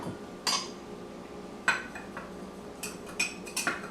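Sugar topping for blueberry muffins is mixed in a bowl, heard as a handful of sharp, quiet clinks and scrapes of a utensil against the dish with pauses between, in a quiet kitchen.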